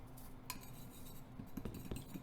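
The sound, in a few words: mixing garlic and herb seasoning into bullfrog coating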